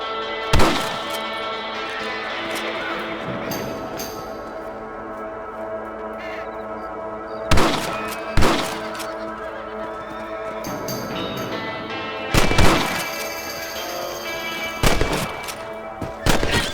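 Several sharp rifle shots crack out at rabbits in a Western video game, spaced irregularly with one early, a pair around the middle and a cluster near the end, over a steady game ambience with no talk.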